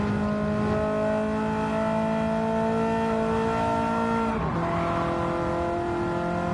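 Ferrari 308 GTB engine in a racing game, a sustained steady drone rising slowly before an upshift drops the pitch, loud and close with no voices.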